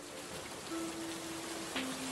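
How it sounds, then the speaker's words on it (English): Rain sound playing on a stream, a steady soft hiss of rainfall with faint scattered drops, fairly quiet and continuous, with no talking. "I wish my rain was working. I'd love some rain right now."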